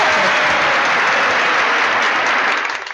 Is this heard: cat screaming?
no